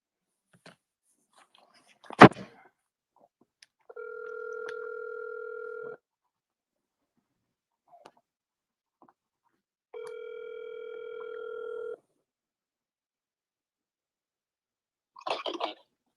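A telephone calling tone sounds twice while someone places a call, each steady two-second tone separated by silence, with a sharp click before and a brief rustle at the end.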